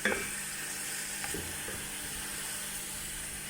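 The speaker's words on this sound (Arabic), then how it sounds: "هسه نقلب اللحم. هالشكل نقلبه حتى تتحمس عندنا اللحم." Meat sizzling and frying in a pot as it is stirred for red tashreeb, a steady close hiss running throughout with a few faint scrapes and knocks, no voices.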